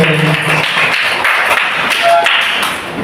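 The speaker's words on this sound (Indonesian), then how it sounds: "Oke, tepuk tangan untuk kelas 5." A fifth-grade class of schoolchildren applauds in a classroom, a loud, continuous mass of clapping hands mixed with children's voices and chatter, close and steady for the whole span.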